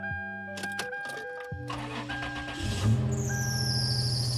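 A Toyota 4Runner's 5VZ-FE V6 cranks in a few short bursts, then catches and settles into a running idle, while a high, thin belt squeal rises sharply over the engine at close range.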